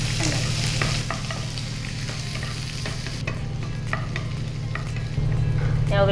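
Onions fry in a pan for palak sabakki upkari, a steady close sizzle with a low hum underneath as a spoon stirs and scrapes in quick strokes. No one speaks.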